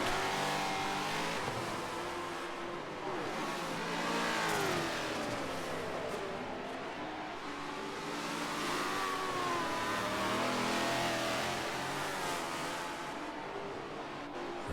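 Race car engines whine and rev continuously in Forza Motorsport 7 during a wet race on the Nordschleife, pitch rising and falling as cars accelerate down a long straight, with no voices present.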